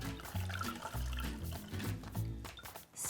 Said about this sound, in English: Now I'm taking a damp microfiber cloth. I dip it in my water.